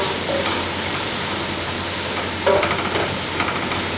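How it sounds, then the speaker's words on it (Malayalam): Chopped ingredients for Malabar chicken biryani sautéing in oil in a pan, a loud steady sizzle with occasional stirring scrapes, no voices. "നന്നായി വഴറ്റി കൊടുക്കുക."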